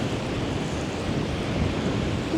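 Strong wind roars steadily across the microphone on the beach at Pärnu, with a constant low rumble, surf blended underneath, no voices.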